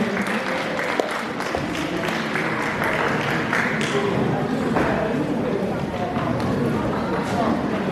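An audience at a Tamil New Year community event applauds continuously, a thick, even roar of clapping from a large crowd with faint voices underneath.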